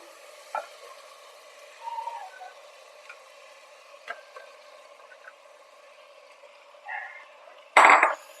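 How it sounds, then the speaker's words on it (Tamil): Chicken for Vaniyambadi chicken biryani sautés with biryani masala in oil, giving a low, steady sizzle with a few soft spoon clinks and a louder scraping stir near the end. "இது நல்லா மசாலாவோட கலந்து விடுங்க இந்த சிக்கனோட சேர்ந்து எண்ணெய்லாம் நல்லா பிரிஞ்சு வரணும் அது வரைக்கும் நல்லா வதக்கி விட்டுக்கோங்க"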